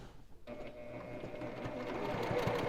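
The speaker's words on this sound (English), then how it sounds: "So I'm just going to use a 1/4 inch seam and baste that in place." A sewing machine runs steadily, basting a quarter-inch seam on a glitter vinyl project bag; after a brief quiet start the close motor whir and rapid needle clatter continue, growing slightly louder, with no talking.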